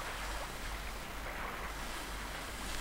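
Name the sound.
wind at the ship's stern in the video game Limbo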